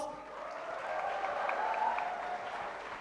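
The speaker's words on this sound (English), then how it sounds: "Can we have a big round of applause" A large crowd claps in steady applause for an actors' panel at a public event in Mumbai, sustained and fairly loud with a swell in the middle, with faint voices mixed in.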